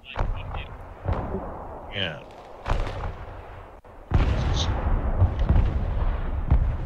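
Artillery fire and explosions in the battlefield video game Broken Arrow, a series of sharp booms and blasts of varying distance with rumbling tails, one brief voice heard.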